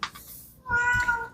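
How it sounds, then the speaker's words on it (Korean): A house cat gives one drawn-out meow, close and clear, after a short faint noise in an otherwise quiet indoor room. "저희 야옹이스가 이제 그만하라고 들어오네요"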